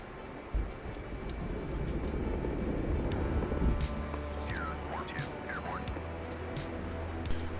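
A fixed-wing aircraft takes off in the DCS flight simulator, a steady, loud engine roar with a low rumble underneath and a few faint high chirps.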